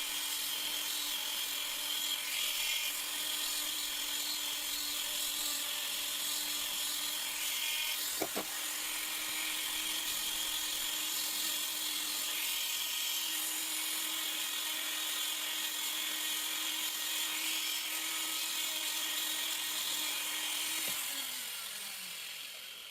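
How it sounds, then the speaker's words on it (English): A small rotary tool polishes the inside of a handmade alexandrite engagement ring, giving a steady high-pitched whine with a faint hum underneath that holds for most of the stretch, with one brief sharp click partway through before it winds down near the end. "And now I'm polishing the inside of the ring."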